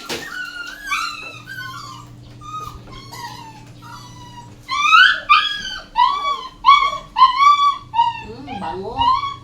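Dogs whimpering and yipping in a home, high whining cries at first, then a run of louder, closely spaced yips and whines from close by, with a person speaking briefly.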